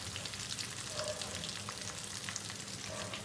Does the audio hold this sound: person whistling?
no